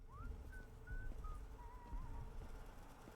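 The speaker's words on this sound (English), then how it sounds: "And someone's whistling, because why would they not be?" Someone whistles a faint, thin melody in the video game Atomfall, a few sustained notes and slides sounding far off over low ambient game rumble and soft clicks.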